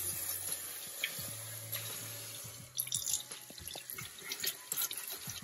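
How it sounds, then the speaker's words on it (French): Tap water running into a sink while aquarium stones are rinsed, a steady close stream with splashes and drips that grow busier midway. "je le fais à l'eau du robinet"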